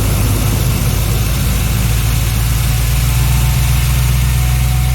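An engine, seemingly mid-sized, idles with a steady low hum and no talking, its rumble rising slightly in pitch and strength toward the end as the RPMs are raised.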